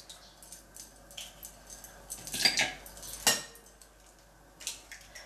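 Eggs for crème renversée are beaten by hand in a bowl, four at a time, giving uneven clinking and scraping bursts of utensil against the bowl, with a few sharper knocks and no one talking.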